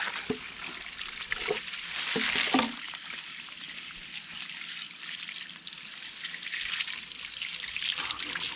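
Water runs and splashes steadily from an outdoor tap beside a 16x48 shed being converted to a house, rinsing out gear, with louder splashy bursts and faint talking in the background.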